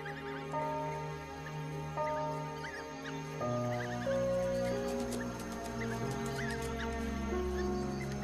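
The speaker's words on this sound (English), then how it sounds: "The pups make distinct chirping sounds and lick the mouths of the adults." High, squeaky chirps and twittering calls from several African wild dog pups at a den, close by, overlapping over a steady low hum.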